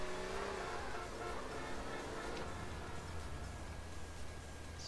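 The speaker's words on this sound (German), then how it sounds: "der Wagen fährt jetzt hier. Ist relativ laut." A car driving in the GTA San Andreas video game, its steady engine drone running loud and continuous throughout with a faint whine on top.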